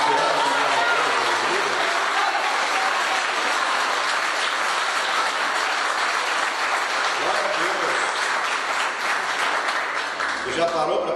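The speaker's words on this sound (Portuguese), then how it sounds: "Tem alguém vivo aqui para dar uma salva de palmas?" A church congregation breaks into loud, dense, sustained applause that fills the whole stretch, with voices and cheering mixed into the continuous clapping.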